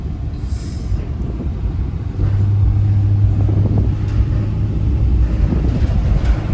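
A Ram ProMaster cargo van is driven, its steady low road rumble and engine drone filling the cabin and growing slightly louder partway through, with no speech.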